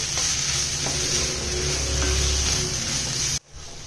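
Three chopped medium tomatoes cook in a pan for a potato and peas saaru, giving a steady loud sizzle with soft stirring scrapes that cuts off abruptly near the end.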